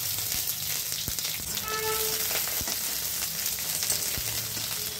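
Thinly sliced onion fries in mustard oil with nigella seeds and slit green chilies, a loud, dense, continuous sizzle with crackling pops and occasional stirring taps.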